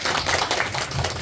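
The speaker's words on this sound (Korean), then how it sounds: "박수로 청하겠습니다." A brief burst of steady clapping from an audience at a trading seminar greets a speaker, moderately loud and continuous with no talking.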